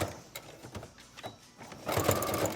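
Sewing machine running in bursts while stitching a fabric face mask, a steady mechanical whir with faint clicks that grows louder and busier toward the end, close up with no talking.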